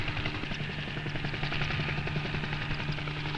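Helicopter flying low over the vast Everglades swampland, a steady close rotor drone with a strong low hum that holds level throughout, no voices.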